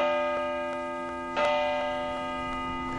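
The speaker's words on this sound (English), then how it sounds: "Which bell was that? It was Patrick. He's the largest bell." Patrick, the largest of thirteen church bells in a tower in Lowell, rings with a deep, sustained tone and long hum, heard from a distance alongside faint, regular ticking clicks.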